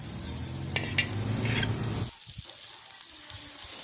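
Onion and ginger sizzle and are stirred in hot oil in a pan while a Marathi drumstick curry is cooked, a loud close crackle for about two seconds that then drops to quieter, scattered spitting.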